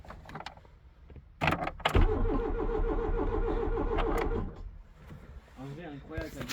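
An old Peugeot 205 engine cranks and catches, then idles with a rough, rhythmic chugging for a few seconds before settling, with voices talking nearby.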